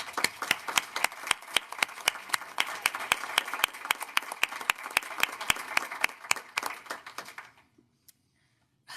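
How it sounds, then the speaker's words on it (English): A small group at a county council meeting claps in a loose, sharp rhythm, with distinct individual claps standing out over a lighter patter before it stops abruptly near the end. "Can we please give them a round of applause?"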